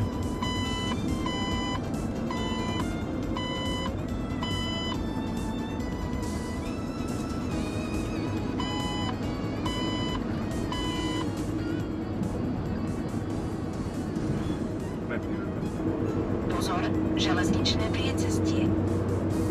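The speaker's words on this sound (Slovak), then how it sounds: "zvukové upozornenia na body záujmu môžu byť v niektorých väčších obciach aj nepríjemné" Sygic Mobile Maps 2009 navigation on an iPhone 3GS or Nokia N95 8GB sounds point-of-interest alerts inside a moving car: trains of short, regular electronic beeps repeat many times over steady road noise, with a voice talking throughout.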